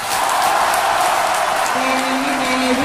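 Students in a classroom clap together in a loud, dense burst of applause that holds steady throughout, with a faint tone rising near the end.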